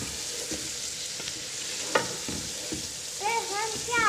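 Meat and chilies frying for nehari in a pan, sizzling steadily while being stirred, with a few scraping clatters of a spoon and brief higher squeaks near the end.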